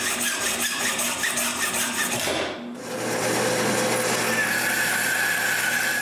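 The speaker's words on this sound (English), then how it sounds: "Now that the epoxy is cured, I can find the length I need and cut the rod." A wooden rod for a tripod is sawn to length by hand, a close, continuous rasping stroke-by-stroke cutting with a brief pause partway through, no speech.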